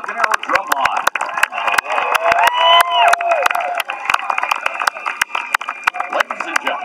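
An audience at a high school marching band invitational finals awards presentation bursts into loud applause and cheering for a drumline, sharp claps crackling throughout with whoops and voices rising in the middle.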